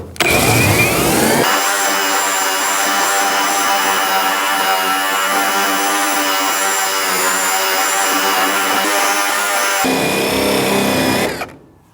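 A steady, loud whine from a Seesii surface conditioning drum sanding paint off, with a grinding, rasping edge, runs for about eight seconds, starting and stopping abruptly, with no talking.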